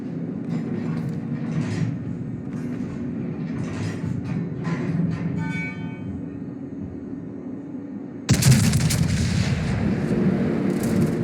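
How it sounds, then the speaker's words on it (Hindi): Tank cannon and gunfire in a tank video game, a dense rumbling barrage of blasts with rolling low booms, steady and loud, jumping to a harsher, brighter burst near the end. "ये सिर्फ तंग करने के लिए वेनम के ऊपर फायर किया है"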